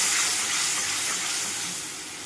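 Spice paste being fried hard in oil in a pan, a steady bright close sizzle and hiss that holds for a couple of seconds and tapers off slightly, with no talking.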